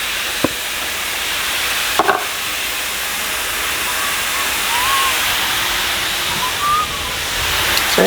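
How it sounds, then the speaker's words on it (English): Steady broadband hiss of taco meat sizzling in a little oil on a hot griddle, continuous and close, with a few faint clicks and taps. "You can hear it sizzling."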